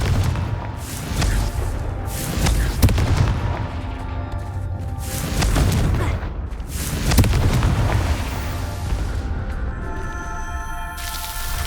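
Repeated Confringo blasts in Hogwarts Legacy, about four heavy booms a couple of seconds apart, each a loud fiery burst with crackle that rumbles away, and a bright magical shimmer at the end.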